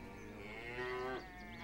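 A single cow lets out a long, low moo close by, the drawn-out call rising and then breaking off, with a second shorter bellow starting at the end.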